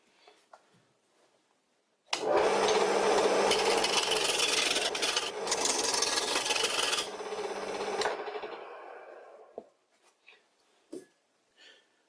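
A homemade wooden lathe running fast, a steady loud close rasping whir for about six seconds that fades out, with a few knocks after it stops.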